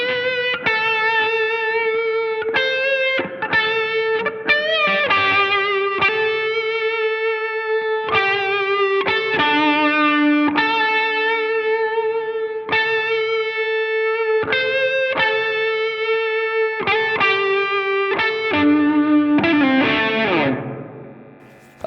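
Electric guitar played through a BIAS FX preset with massive reverb, ringing sustained chords and picked notes that change steadily in a loud, continuous stream, the final chord washing out into a long reverberant tail.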